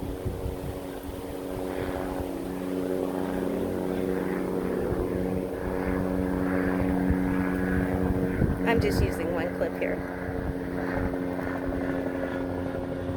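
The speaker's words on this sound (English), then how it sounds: "I can't get away from noise. Now I got helicopters." A steady helicopter engine drone hums low overhead beneath a person talking, with a brief rattling burst partway through.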